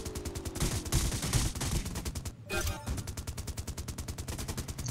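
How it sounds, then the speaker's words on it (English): Gunfire and explosive blasts in a Death Race vehicle combat video game, including a rocket launcher (RPG) firing, form a dense, loud, rapid barrage with a brief break before rhythmic shots resume. "RPG, nice."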